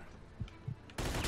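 Gunfire from the Mafia II video game: a few soft, muffled shots early on, then a loud, dense burst of rapid fire near the end.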